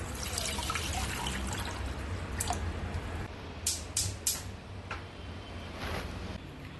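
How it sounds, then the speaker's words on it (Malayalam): Three cups of water go into a pressure cooker on the stove, heard as a soft trickle broken by sharp, separate drips and splashes that cluster toward the middle. "അടുപ്പത്ത് കുക്കറിലേക്ക് 3 കപ്പ് വെള്ളം ഒഴിച്ച് നല്ലോണം ചൂടാക്കാം"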